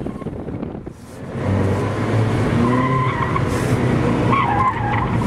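Car skidding hard in first gear on an autocross course, a sustained tire squeal over engine noise and wind buffeting, loud and close throughout.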